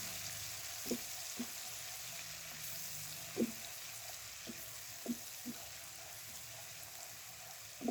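Oil heating with whole dried red chillies for cabbage sabzi crackles softly in a pan, a faint sizzle broken by scattered light pops, with no talking.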